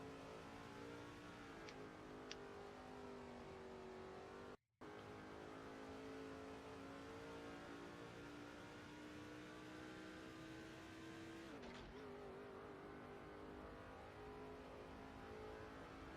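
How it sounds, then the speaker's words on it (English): Race cars in the NASCAR 07 Busch Series video game at Watkins Glen drone steadily along pit road, a continuous even engine hum with a brief dropout and a slight pitch shift late on. "So by the sounds of it, we do have cars on pit road."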